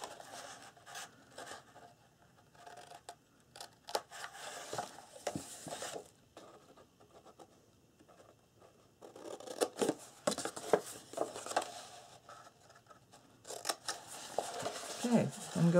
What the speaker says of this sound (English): I'm just going to make a cut to the fold line here on each side.